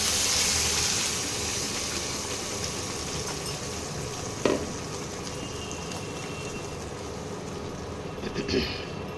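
Ridge gourd paste going into hot oil tempered with spices for a Bengali coconut ridge gourd dish, giving a steady, dense sizzle and crackle throughout with a couple of brief sharp clinks of utensil against pan.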